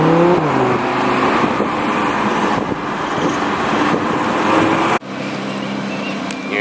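Lamborghini Huracan engine droning loudly while driving, a steady roaring hum with road noise, slight pitch shifts as it pulls, and a brief abrupt cut near the end before the engine continues.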